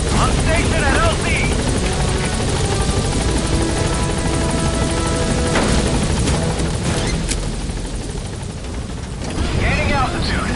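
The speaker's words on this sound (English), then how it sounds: "Arriving shortly at LZ" A helicopter's rotor thumps loudly and constantly as it comes in to a landing zone in the Metal Gear Solid V video game, with radio chatter over the top and a few bangs and clatters.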